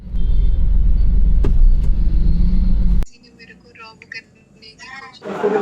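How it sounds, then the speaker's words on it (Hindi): Car engine rumbling loud and steady while driving through Delhi traffic, then dropping away as a voice speaks over quieter cabin background. "अभी मैं चला ही रहा हूँ, अभी भी ट्रैफिक ही है रास्ते में"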